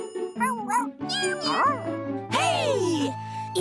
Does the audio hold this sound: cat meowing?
yes